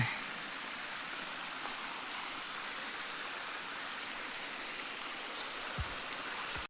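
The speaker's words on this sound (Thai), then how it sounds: "ลำธาร" A forest stream flows steadily, a soft, even wash of running water that stays constant throughout, with no voices.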